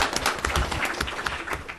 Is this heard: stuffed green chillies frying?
no